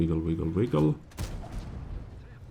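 A tank cannon shot in World of Tanks gameplay, one sharp boom with a rumbling decay that trails off, coming right after a short stretch of talk.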